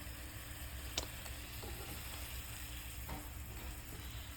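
Chicken fries in a pan with a quiet, steady sizzle, broken by a couple of faint clicks and light scrapes as pieces are turned.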